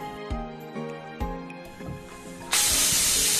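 A pressure cooker on a gas stove, cooking leutia greens: a sharp, loud burst of hissing steam starts partway through and continues steadily, after quieter clinks and a hum.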